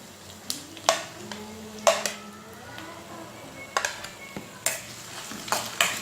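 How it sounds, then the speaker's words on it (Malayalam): Carrots and beans sautéing in a non-stick pan over high flame, a soft sizzle under repeated sharp clacks and scrapes of a spatula stirring at an uneven pace, close by. "ആദ്യം നമുക്ക് ക്യാരറ്റും ബീൻസും ചേർത്ത് കൊടുക്കാം."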